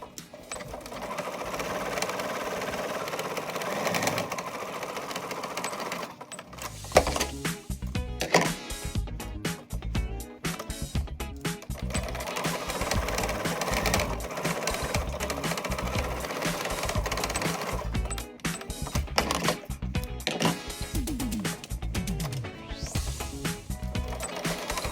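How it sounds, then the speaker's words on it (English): A sewing machine stitching corset bodice pieces together runs in long, steady mechanical bursts, with a short pause early on before resuming at a loud, even pace with no talk. "I'm just sewing all the bodice pieces together."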